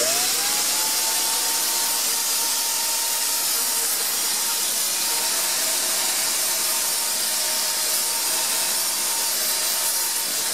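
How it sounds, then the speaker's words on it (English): A Wagner paint sprayer sprays black projector screen paint, giving a loud, steady, continuous hiss from start to finish with no talking. "over here I have my Wagner paint sprayer, my trusty Wagner paint sprayer"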